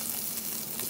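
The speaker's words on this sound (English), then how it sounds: "splash some water in there, and you hear some sizzle" Water is splashed into a hot iron skillet and gives a short, fairly quiet burst of crackling sizzle lasting about a second.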